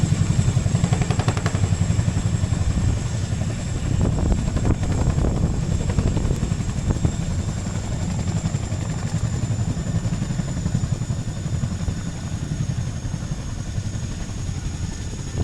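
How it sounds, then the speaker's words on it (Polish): Helicopter rotors thump in a rapid steady rhythm as helicopters land at Gibraltar airport, loud and close at first, then settling into a constant droning whir as the engines idle. "No to trafiło mi się jeszcze oglądać lądowanie helikopterów na lotnisku w Gibraltarze."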